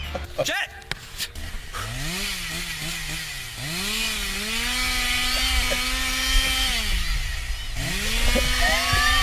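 A large chainsaw revs up and down repeatedly in the stands at an MLS soccer match, its engine whine rising and falling over crowd noise and a voice talking.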